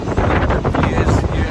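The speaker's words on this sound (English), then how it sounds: "Quite windy down here." Steady wind at Bondi Beach in Sydney, Australia, buffets the microphone with broad low rumble throughout, a continuous gusty roar outdoors with no clear pauses.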